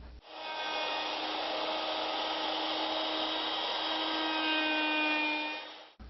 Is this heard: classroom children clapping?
no